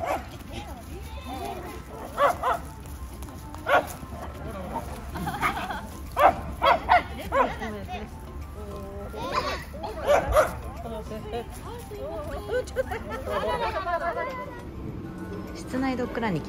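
Several small dogs, miniature pinschers among them, bark in short scattered yips and bow-wows around an indoor dog run, sounding at moderate distance with echoey room tone and people talking throughout.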